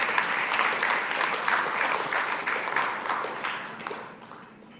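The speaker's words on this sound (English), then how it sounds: "Can we give them a round of applause?" Audience applause at a community forum welcoming facilitators, a dense steady clapping from a crowd in a hall that holds strong for several seconds before thinning out toward the end.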